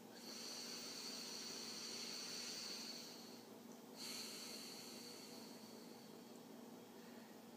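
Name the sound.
deep breath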